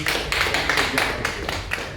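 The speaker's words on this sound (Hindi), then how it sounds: "मैं चाहूँगा कि क्लैप करके ताली बजा सकते" A training-session audience at a work-at-height safety course applauds, a dense run of hand claps that is near and steady for a couple of seconds, with no talk over it.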